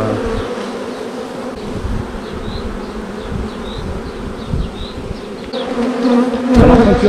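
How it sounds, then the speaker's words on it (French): A swarm of bees buzzes loudly and steadily around a beekeeper, a dense continuous hum with individual insects darting close, swelling louder toward the end. "j'en entends pas mal quand même qui essayent de piquer là"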